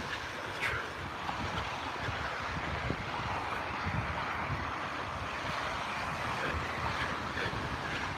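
Strong wind buffets the microphone on a snowy, treacherous outdoor walk, a loud continuous rumbling rush throughout with gusty swells.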